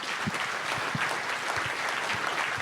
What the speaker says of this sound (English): A round of applause for our panel here.